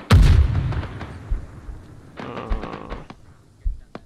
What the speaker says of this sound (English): Like yeah, that's a mortar.